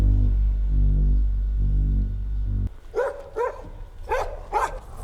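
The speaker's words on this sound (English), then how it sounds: "There's something wrong with the dog, Alan." A dog in the 2014 horror film Oculus barks and whimpers in a few short, close yelps, following a low, steady droning hum from the soundtrack.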